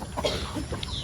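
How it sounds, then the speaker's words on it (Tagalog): A farmyard chicken gives a few soft, short clucks, fairly quiet and close, over faint background noise with no talking. "Ayan yung manok natin, no?"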